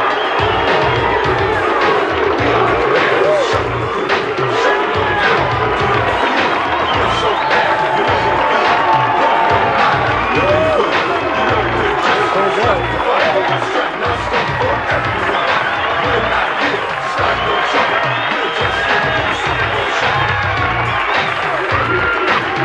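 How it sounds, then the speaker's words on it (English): Opening applause and cheering from a studio audience for the Super Bowl champion Chicago Bears on Mike Ditka's show, a loud sustained roar of clapping, whoops and crowd noise with no letup. "we purposely saved the opening applause until now, so let's hear it for the Bears"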